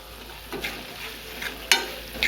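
Crushed ginger and garlic being stirred into tomato and onion frying in a pan for a jackfruit seed cutlet filling, with a soft steady sizzle broken by a few scraping stirs, the loudest near the end.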